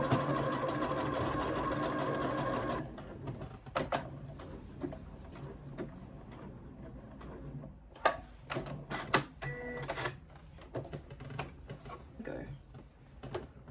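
A sewing machine stitches a seam in a steady loud whir for about three seconds, then stops and leaves quieter clicks, ticks and handling knocks up close.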